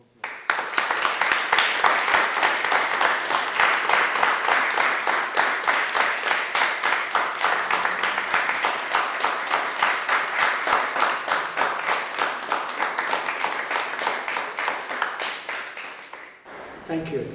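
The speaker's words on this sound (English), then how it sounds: "please give these learners a round of applause" An audience at a Global Dignity event applauds a group of learners, steady dense clapping that holds for many seconds before tapering off near the end.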